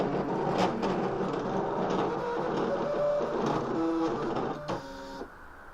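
Brother Scan N Cut cutting machine slicing vinyl. Its motors whir and buzz steadily with shifting mechanical tones and brief pitched whines as the carriage moves, and the sound ends in quiet.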